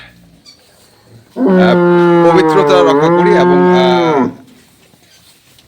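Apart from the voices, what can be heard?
dairy cows mooing on a farm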